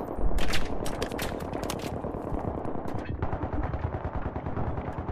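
Rapid automatic gunfire from a weapon fitted with a flash suppressor in Battlefield 3 rattles loud and continuous, dense close bursts with sharper cracks early on.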